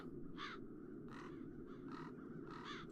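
Crows caw in the video game The Dark Eye: Chains of Satinav, five or six harsh calls spaced over a low steady rumble, faint and somewhat distant with no voices.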